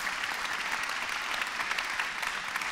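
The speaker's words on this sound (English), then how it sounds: "but perhaps we give an applause for that." Conference audience applause in a large plenary hall at a space industry event, a steady, even burst of clapping throughout.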